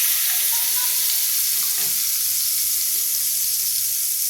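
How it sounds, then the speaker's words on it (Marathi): Hot oil poured over green chillies for an instant green chilli pickle gives a loud, steady sizzle that fills the whole stretch with no voices over it. "आता हे गरम तेल आपण आधी ह्याच्यावर टाकून घेऊया"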